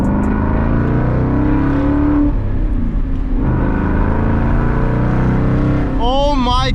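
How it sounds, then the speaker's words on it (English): A Ford Mustang GT 5.0 V8 with an MBRP race exhaust rumbles and revs steadily, deep and throaty, with a brief higher whine near the end. "today we have a Mbrp race exhaust on it."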